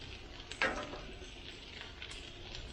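Clarified butter sizzling on a Blackstone griddle, a soft, steady hiss with a brief sharper crackle near the start, fairly faint and without talk.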